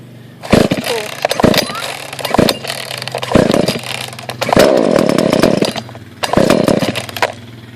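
Husqvarna 142 chainsaw being pull-started with the choke out: several loud, short bursts of cord pulls and sputtering engine catches, with a longer rough run near the middle, close by.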